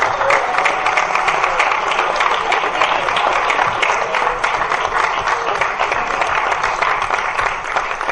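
Loud, dense applause from the audience at a board of education meeting, many hands clapping continuously and evenly close to the microphone.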